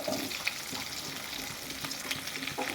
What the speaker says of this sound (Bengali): কাঁকরোলটা ভেজে নিচ্ছি, তার সাথে এক পাশে আমি আলুগুলোও ভেজে নেবো।